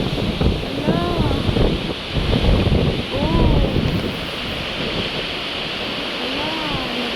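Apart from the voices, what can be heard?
strong wind blowing through trees, leaves flying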